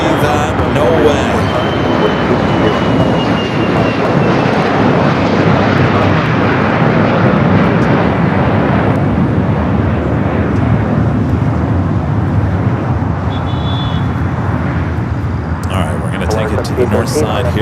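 A jet airliner takes off at Los Angeles LAX airport, a loud sustained engine roar that is heard from a distance and slowly fades, with voices talking faintly underneath.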